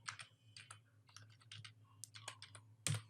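Someone types a name on a computer keyboard: quiet, quick bursts of key clicks in an uneven rhythm, close by in a calm room, ending with a sharper, louder keystroke.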